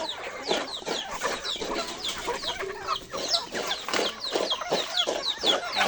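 Chickens cluck busily and continuously, several birds close by with short repeated calls overlapping, no voices.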